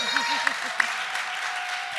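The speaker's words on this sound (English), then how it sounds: "Give Steph a nice round of applause." A studio audience at a recovery-themed talk show breaks into a steady, full round of applause. The clapping holds evenly for about two seconds, with a few sharper claps standing out.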